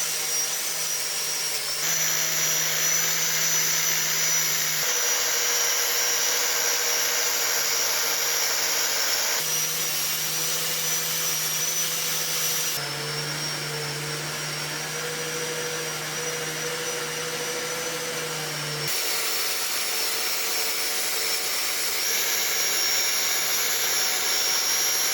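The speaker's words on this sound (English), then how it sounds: "Using the grinder with the metal brush to clean the surfaces of the stones." An angle grinder fitted with a wire brush scours old stone wall surfaces, a loud continuous high whine and hiss that runs for the whole stretch, shifting in tone as the load changes, close up with no voices.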